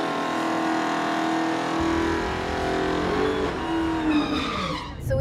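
A Dodge Charger Hellcat on street tires launches down a drag strip, its engine roaring loud and close with rising revs and gear shifts, tire squeal mixed in as it pulls away.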